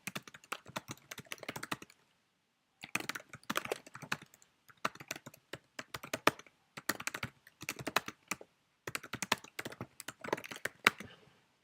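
Bursts of rapid typing on a computer keyboard, quick clicky keystrokes in several runs separated by short silent pauses, close and clear with no talking.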